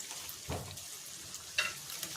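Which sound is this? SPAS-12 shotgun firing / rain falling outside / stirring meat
stirring meat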